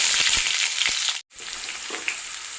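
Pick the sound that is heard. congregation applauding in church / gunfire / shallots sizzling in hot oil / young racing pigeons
shallots sizzling in hot oil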